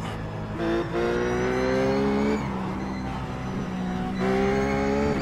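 A Ruf Porsche GT3 race car howls around Suzuka in the iRacing video game, its engine holding a loud sustained tone that rises with revs, dips on a shift around the middle, then climbs again, close and without talk.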